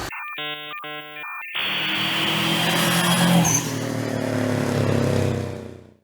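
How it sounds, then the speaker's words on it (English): A revived Subaru car's engine running steadily and fairly loud up close after a brief burst of electronic tones, with a rough continuous rumble that fades out at the end. "the car runs"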